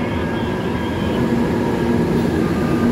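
A steady rumbling train noise with a faint hum, like a carriage sitting at or rolling slowly along a platform, no voices.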